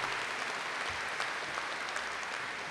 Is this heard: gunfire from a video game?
no